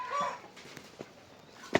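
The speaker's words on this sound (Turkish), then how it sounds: "Yavrum horozlar." Young roosters in a coop give a few brief, faint clucks, one drawn-out call near the start and a sharper squawk at the end, with quiet gaps between.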